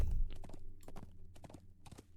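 A horse's hooves clip-clop in a steady walking rhythm in Lord of the Rings Online, close and moderately quiet, about eight distinct hoof strikes over a couple of seconds.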